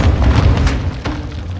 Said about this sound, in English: Take cover! They're launching grenades!